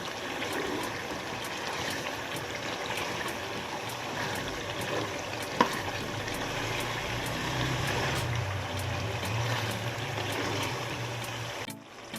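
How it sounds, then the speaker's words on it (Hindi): Chicken keema frying in a pan makes a steady, close sizzle and crackle that runs without a break, with no talk. "अब हम इसको थोड़ी देर फ्राई करते हैं।"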